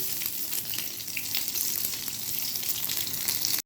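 Paneer cubes frying in hot oil in a pan, a loud, dense, continuous sizzle held at a steady level, close up and with no voices.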